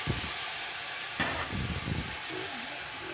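Chopped potatoes dropped into a hot pan of Maggi noodles cooked without egg, giving a steady close sizzling hiss with a brief louder burst and some stirring scrapes.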